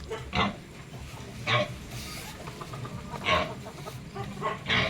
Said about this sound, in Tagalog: silipin lang muna natin ating mga baboy